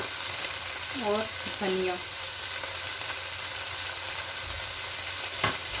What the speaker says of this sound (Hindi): 5 मिनट्स के लिए हम इसको हाई फ्लेम पे भूनेंगे ताकि इसका अच्छे से जो है ऑयल वो निकल आए